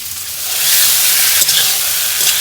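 Pieces of hilsa fish fry in hot oil in a pan, giving a loud, steady hissing sizzle up close with a brief stir partway through.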